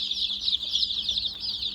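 Seven-day-old native Thai chicks peep continuously in a shrill, rapid chorus, close and fairly loud, with no voices over them.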